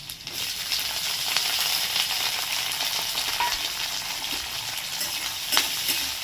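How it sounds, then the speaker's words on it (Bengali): Crushed garlic, chopped onion and split green chillies fry in fully heated oil, giving a dense, continuous sizzle and crackle close by with faint stirring scrapes, steady throughout and without talk. "এবার দিয়েছি খেত করা রসুন আর কুচানো পেঁয়াজ আর চেরা কাঁচা লঙ্কা চল একসাথে ভাজবে"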